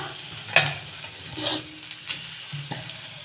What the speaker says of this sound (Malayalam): നമുക്കിതിലേക്ക് തേങ്ങ ഇട്ട് കൊടുക്കാം കേട്ടോ വറുക്കാനാണ് വറുത്തെടുക്കാനാണ് തേങ്ങ ഇടാം